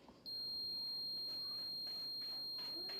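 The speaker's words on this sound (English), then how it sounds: "when it beeps again on a long solid beep, I know it's done" Long, steady electronic beep from a Steamer Curl automatic steam hair curler signalling the finished curl, starting sharply after a short pause and holding continuously at a moderate level with faint background noise.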